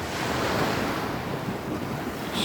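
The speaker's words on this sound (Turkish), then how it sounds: "Evet deniz dalgalı." Sea waves break on a sandy beach at Tekirdağ in strong wind, a loud, continuous roaring surf mixed with buffeting wind noise on the microphone, with no voices.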